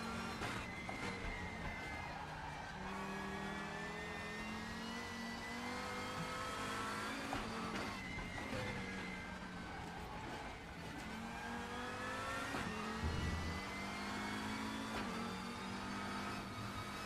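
A race car engine screams through a qualifying warm-up lap on the Nordschleife in the game RaceRoom, with steady high revving, repeated gear shifts and downshift dips, held loud and near throughout with no talking.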